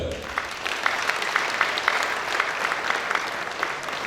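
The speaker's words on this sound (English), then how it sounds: "Clap for yourself." Sustained audience applause at a closing ceremony, a steady dense wash of many hands clapping throughout at moderate loudness with a faint murmur beneath.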